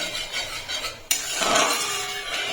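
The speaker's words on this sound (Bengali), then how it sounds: "একটুখানি নাড়িয়ে নেবো" A spoon stirs thin white sauce in a pan for pasta, with scraping, clinking strokes that turn louder and busier halfway through.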